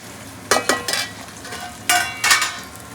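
Chicken being stirred and mixed with coriander powder in a kadai, with a few close scraping strokes and soft sizzling in short bursts, no talking.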